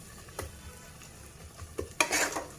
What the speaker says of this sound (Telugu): బ్రహ్మాండంగా వేగిపోయిందండి.